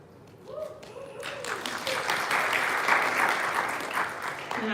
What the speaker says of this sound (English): lots of applause for the ERG here